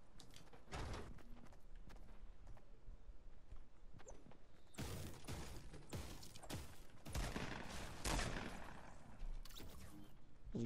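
Bursts of assault rifle fire from the video game Fortnite, loud, repeated volleys in clusters across the clip with footstep-like thuds between them and no talk.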